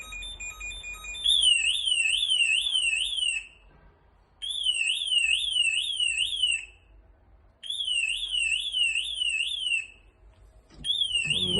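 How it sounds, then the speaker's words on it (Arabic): A loud apartment door burglar alarm shrieks in repeating warbling bursts, each lasting a couple of seconds, separated by short silences. "لو حد حاول يزق الباب، يفتح الباب، بيبدأ يطلع طبعا انذار صوت جامد جدا"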